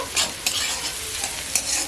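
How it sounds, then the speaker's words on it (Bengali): Chopped onion fries in hot oil in a wok, a steady close sizzle broken by a few sharp bursts of stirring and scraping, with no voices. "পেঁয়াজটিকে ভালোভাবে ভেজে নেব।"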